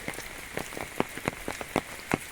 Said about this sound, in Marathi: बारीक बारीक पाऊस पडता